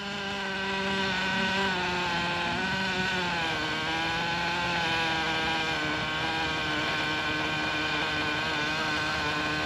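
A Traxxas T-Maxx nitro RC truck engine idles low and steady after its low-speed needle is adjusted, giving a continuous buzzing drone with a slight dip in pitch around the third second, loud and close with no talking.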